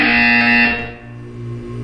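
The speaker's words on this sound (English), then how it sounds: "You will hear a buzzer." A loud, harsh electronic buzzer in Portal 2 blares for under a second, then a lower droning tone lingers underneath.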